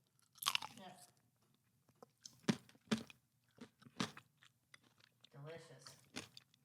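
Someone bites and chews a crunchy pickle from a jar that also holds peppers, giving several crisp, close crunches separated by pauses, with quiet background hum.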